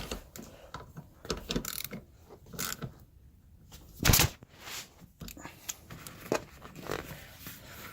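Tools are worked to tighten the front seat fastening in a Pontiac Grand Prix, producing faint irregular clicks, ratcheting and rustles with one louder clank midway, in a quiet garage.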